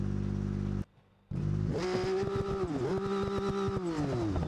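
A flat head inline-six engine in BeamNG.Drive revs hard after a brief cut, climbing, dipping and holding high rpm with a loud, gritty, clattering tone that fills the foreground.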